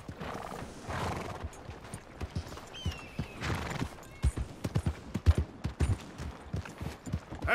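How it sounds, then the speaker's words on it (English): A horse in Red Dead Redemption 2 whinnies loudly, then its hooves clip-clop in a quickening rhythm close by, with faint distant gunfire in the background. "That's a nice horse."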